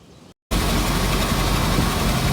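Smart Fortwo engine running with its engine cover removed, a steady loud mechanical drone that starts after a brief silence and holds unchanged, close up with no talking.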